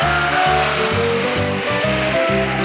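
A car in the CDID driving game accelerates, its engine note climbing in a repeating rhythm of gear shifts, loud and steady with no talk over it.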